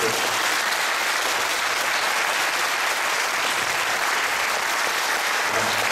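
A concert audience gives loud, continuous applause, a dense, even wash of clapping that fills the hall for several seconds.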